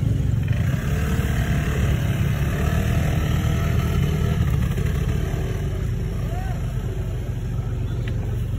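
Motorcycle riding over a rough access road toward a parking area at Magoli Eco Park in Tumauini, Isabela, a steady loud engine drone and wind rush throughout, with a voice talking over it.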